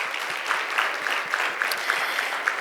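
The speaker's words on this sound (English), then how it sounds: "Can we give him another round of applause," Audience applause for Representative Khanna at a summit on AI for the public good, a steady dense wash of clapping with regular louder claps standing out, sustained throughout.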